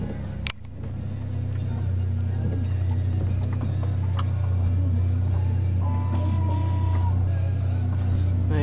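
A 2004 Vauxhall Vectra SXi turbo idling after start-up, a steady low rumbling hum that evens out as it settles, with a brief thump near the start and faint background clatter.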